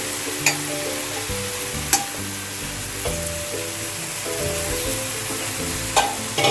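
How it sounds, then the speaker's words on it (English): Okra (bhindi) frying in hot tadka oil in a pan, with a steady crackling sizzle throughout, several sharp clinks of a utensil against the container, and soft stirring scrapes, all close by with no talking. "So now we are putting bindi into the tadka."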